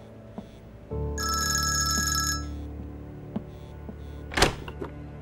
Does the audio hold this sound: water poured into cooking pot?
no